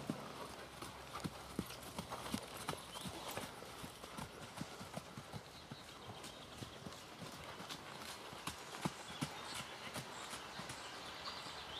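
Horse hooves clip-clop steadily on arena footing during a riding lesson, with a continuous rhythmic stream of close, moderately loud hoofbeats and faint background murmur.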